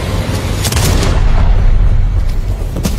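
A gunshot rings out in a film scene, a loud booming blast with a heavy low rumble, followed by a couple of sharper cracks.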